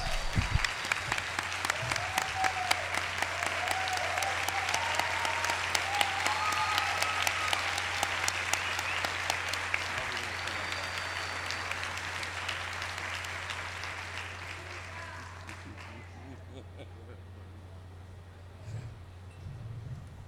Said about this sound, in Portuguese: ela merece mesmo uma salva de palmas em pé aqui de todos nós